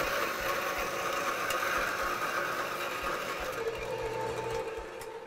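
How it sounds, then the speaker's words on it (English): A small metal-cutting bandsaw with a fine-toothed, slow-running blade cuts rods to length, giving a steady, close mechanical whir and hum that runs unbroken and eases off slightly near the end. "it's a metal cutting bandsaw"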